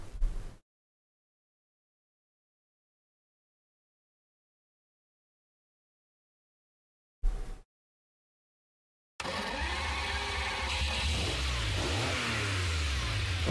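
Ferrari 512 BB engine in Gran Turismo Sport, driven manually at Monza: after a short blip and a long gap, a loud continuous revving drone with rising and shifting engine pitch, alone without voices.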